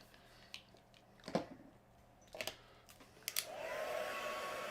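A heat gun blows on freshly applied sparkly craft paint, starting as a steady rushing whoosh near the end, after a few faint taps and clicks from handling. The sound is quiet and fairly close, and no one speaks.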